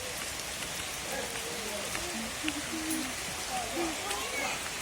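Steady rain patters on surfaces at home on a wet Sunday, a continuous hiss with scattered drops, while faint voices and light tones drift over it.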